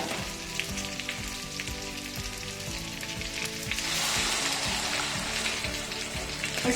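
Rice frying with peri-peri masala sizzles steadily, then 4.5 cups of hot water are poured in and the sound swells into a louder, broad rushing hiss.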